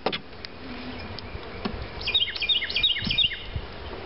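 Honeybees buzz around an open hive during an inspection, a close, steady drone with individual bees whining past the microphone in the second half.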